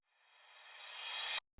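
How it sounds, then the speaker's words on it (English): A reversed cymbal swells steadily from silence to a loud, bright peak, then cuts off abruptly, followed by a brief low thump. "Next thing, we have a reverse cymbal."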